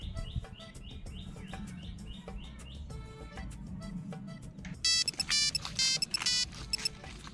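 A mobile phone ringtone plays during a call, a repeating electronic melody of short chirpy tones that starts softly and swells louder and busier toward the end, with no talk over it.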